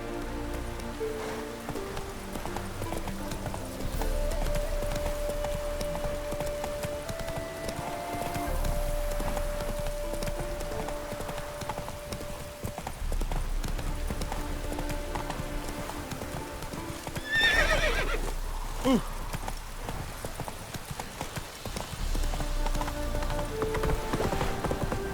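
Roach, the horse in The Witcher 3, gallops with steady rapid clip-clop hoofbeats and an occasional whinny, over a rain-like wash and a continuous musical score.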